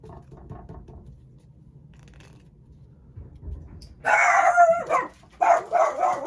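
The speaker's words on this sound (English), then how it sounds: "My dog will bark at anything." A dog barks at something outside, a burst of loud, close barks after several seconds of quiet room tone, with a short pause and then a second run of barking.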